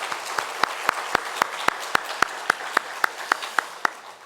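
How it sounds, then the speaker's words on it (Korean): A single pair of hands claps in a slow, steady rhythm inside a church during a Sunday worship service, with about sixteen crisp, evenly spaced claps close to the microphone. "하나님 앞에 큰 영광을 박수 올려드리겠습니다"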